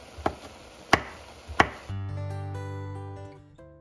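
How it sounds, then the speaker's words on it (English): Three sharp knife chops through mushrooms on a cutting board, spaced unevenly, followed by a sustained sizzling with a low steady hum. "I wasn't fussy with how I was chopping these mushrooms"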